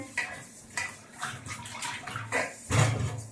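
Peanuts are dropped into a pot of water for washing, giving a series of close splashy sloshes and light clatters with a heavier plunge near the end.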